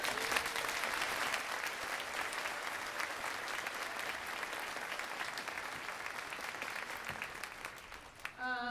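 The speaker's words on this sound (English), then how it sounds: "I would just like to give them one more round of applause for all their hard work." A school crowd applauds after a sixth-grade band concert, a long, even wash of clapping that holds steady for several seconds, then thins out as a brief musical note enters at the end.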